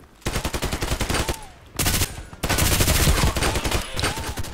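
RPKT light machine gun firing in the online shooter Contract Wars, loud close bursts of rapid automatic fire in three sustained runs with short pauses between, no talk.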